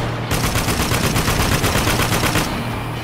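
Rapid automatic gunfire from a modern military shooter, Spec Ops: The Line, with dense, sustained bursts rattling close and loud for about two seconds, then easing off into a lingering low rumble.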